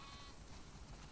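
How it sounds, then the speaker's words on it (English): Sheep bleating in the video game The Last of Us Part 2, a faint, steady animal call set low under a continuous ambient game background with no talking. "We definitely have way too many sheep."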